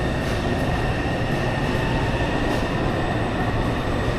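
A Taipei metro train rumbles loudly and steadily underground, a deep continuous roar with faint rail hiss, close by and unbroken throughout.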